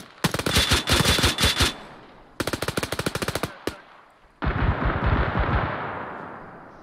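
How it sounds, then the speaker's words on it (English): Heavy machine-gun saturation fire in the military game Arma during a USMC convoy through Takistan, two long rapid bursts of loud close shots, then a single crack and a dense rumbling volley. "Saturation fire."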